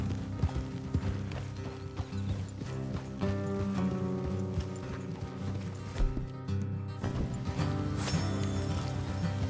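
Horse hooves clip-clop in a steady trotting rhythm in Red Dead Redemption 2, over a bed of music, close and moderately loud.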